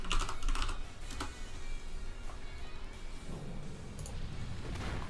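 Rapid clicking on a computer keyboard while spamming a move in a Pokemon battle, a quick cluster of sharp taps at first, then scattered clicks over a faint background hum.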